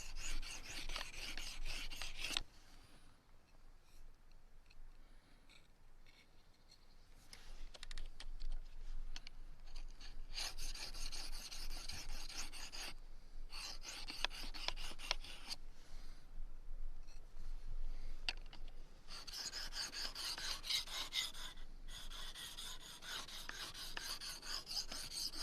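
A knife is sharpened in the field on the coarse side of a sharpening stone. Quick, close rasping strokes run in repeated bursts with short pauses between them.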